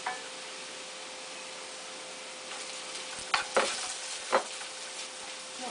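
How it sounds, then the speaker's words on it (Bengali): Prawns and spices sizzle in oil with golden-brown onion in a pan for shrimp and bottle gourd curry, a steady quiet fry broken by a few louder stirring scrapes near the end. "মশলাটা হালকা একটু ভুনে চিংড়ি মাছটা আমি দিয়ে দিব"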